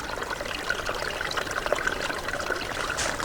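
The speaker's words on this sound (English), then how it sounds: "you can hear the water down there underneath the rocks" A small spring-fed stream trickles and gurgles beneath rocks on a hillside, a soft, continuous flow heard fairly close with no talk over it.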